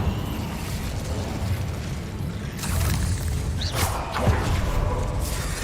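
Confringo fire spells in Hogwarts Legacy, heard as repeated booming blasts and crackling bursts over a steady, dense game rumble. There are no voices.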